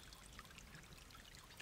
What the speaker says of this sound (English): The creek slowly trickling.